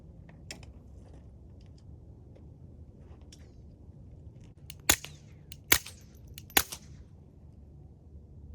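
A .22 pistol firing quieter gold-tipped rounds: three sharp, dry cracks spaced about a second apart near the end, close and loud, after a few faint clicks over low background hum.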